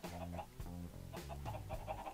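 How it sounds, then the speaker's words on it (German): Minecraft chickens cluck and bawk in short, pitched bursts at close range, several calls in quick succession mixed with game sounds, while someone talks over them. "Und ärgern die Hühner ein bisschen, indem wir hier runtergehen."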